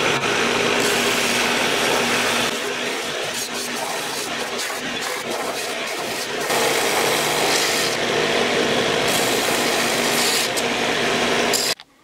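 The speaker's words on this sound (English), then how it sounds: "so now I'm going to clean it up, sand to the lines." Sanding a part to marked lines during a Harbor Freight mini mill brushless motor upgrade, a continuous close abrasive scraping with uneven strokes that runs for about twelve seconds, no speech.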